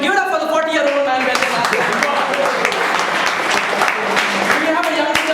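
Audience applause at a Toastmasters debate event, broadband clapping noise running through the whole stretch, mixed with cheering voices and talk over the top.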